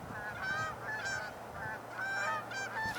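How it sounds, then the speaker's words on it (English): Canada geese flying in honk repeatedly, several clear, nasal calls in uneven bursts, some overlapping, heard at moderate distance over a low outdoor background near water. "Canada geese are coming in,"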